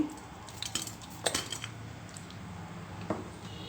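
Lumps of jaggery dropped into a metal pot on a stove, a few faint knocks and clinks scattered over a quiet kitchen background.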